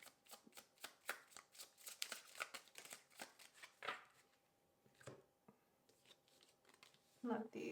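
Tarot deck being shuffled by hand, a quick run of crisp riffling card flicks close by, pausing briefly before a few more slaps of the cards, fairly quiet overall.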